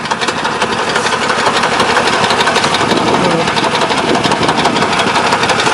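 A tractor pulls a potato digger through a field, a loud, steady, close engine drone with a rapid rhythmic clatter of the digging mechanism running throughout, with faint talk under it.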